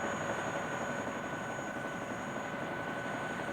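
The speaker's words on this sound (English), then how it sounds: "We've never been on a helicopter before." Steady, continuous rotor and engine roar of a helicopter, loud and close, with a constant whine on top and no talking.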